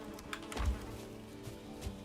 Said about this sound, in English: More bees.